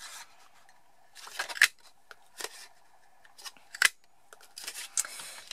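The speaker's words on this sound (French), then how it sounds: "je vais utiliser ma perforatrice 3/4 en cercle" A 3/4-inch circle paper punch cuts circles from midnight-coloured foam paper, producing a few sharp, close crunching snaps with light rustling and handling noise in between, quiet overall.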